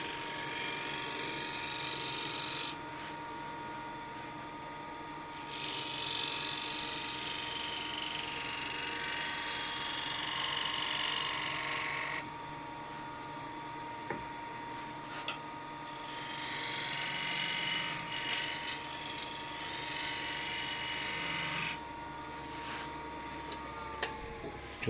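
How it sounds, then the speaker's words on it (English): A steel cabinet scraper has its burr reshaped with a burnisher, giving sustained scraping and ticking strokes in several bursts with brief pauses, close and moderately loud, no voices. "I'll just reshape the burr on the scraper."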